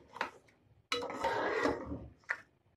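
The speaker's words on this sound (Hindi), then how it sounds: "चिकन को मैं थोड़ा सा भूनूंगी कि इसका कलर चेंज हो जाए।" Chicken sautéed in a pot for pulao, with a longer scraping stir of a spoon against the pot between two short clinks, close and fairly quiet.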